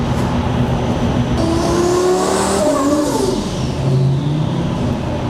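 A twin-turbo, E85-fuelled Lamborghini Superleggera roars on a dyno, its engine loud and close as it climbs in pitch through a hard pull and then drops back, with no one speaking.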